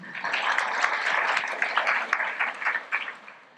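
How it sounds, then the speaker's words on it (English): An audience applauds a business speaker at a networking event, steady dense clapping filling the whole stretch with no talk over it. "So big round of applause again for Aoibh."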